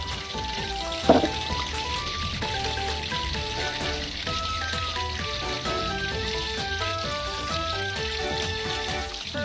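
Crispy pork for a Thai stir-fry of Chinese kale with crispy pork, frying in a pan with a steady close sizzle and crackle, plus one sharp clink of a utensil early on.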